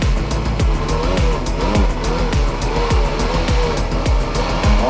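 Ferrari being driven, with a loud engine and repeated short tire squeals and skids coming in quick succession, fairly close and steady throughout with no talk.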